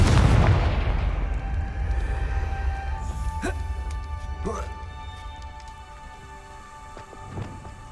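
An explosive blast spell in Hogwarts Legacy bursts with a heavy low boom that decays into a long rumbling, crackling tail, with a few sharp sparkling hits and ringing tones afterward.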